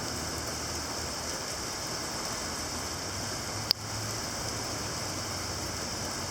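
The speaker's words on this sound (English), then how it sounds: "Heavy line of rain moving over." Heavy downpour during a June thunderstorm outbreak, a steady dense hiss of rain that holds at one level throughout, broken only by a single sharp click midway.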